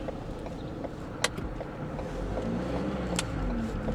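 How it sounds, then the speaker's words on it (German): A car towing a camping caravan, its engine straining under load with a failing turbocharger that cannot build boost, heard as a steady low drone that swells and rises in pitch toward the end, with a couple of brief sharp clicks. "Sobald ich Gas gebe und die Drehzahl höher geht, der Turbolader kann auf Deutsch gesagt den Druck nicht aufbauen."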